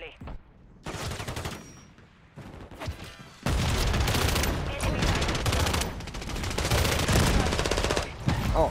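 TAQ Evolvere rifle gunfire in Modern Warfare multiplayer, loud, close automatic bursts separated by short pauses, then a long stretch of near-continuous firing with booms mixed in.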